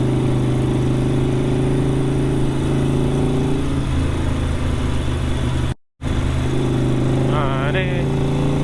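A Harley-Davidson Sportster 72 XL1200 runs with a steady, loud low engine rumble that holds constant throughout, broken by a brief dropout near the end.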